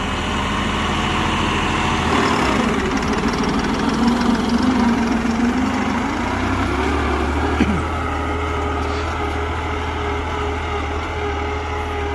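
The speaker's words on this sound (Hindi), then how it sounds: "मेरे हिसाब से जितनी ट्रैक्टर की आवाज़ होनी चाहिए ना, उतनी आवाज़ है।" A CRDI tractor engine idles loudly nearby with no load, a deep steady rumble with knocking vibration, briefly rising in pitch before settling back down.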